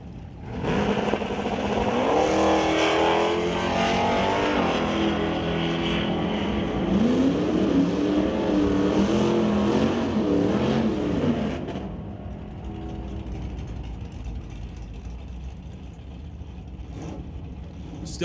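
Drag race between a 1973 Scamp and a Dodge Dart: loud, sustained engine roar with rising revving tones for about eleven seconds, then dropping to a fainter background rumble.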